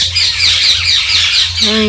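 Loud, raspy parrot squawks fill a garden, a close, continuous chatter of overlapping harsh calls, with a brief tonal hum breaking in near the end.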